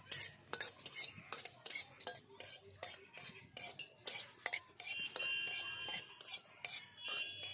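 Spices, including ajwain, being lightly fried in a pan: a busy run of spoon clinks and scrapes against the metal, with a faint sizzle underneath.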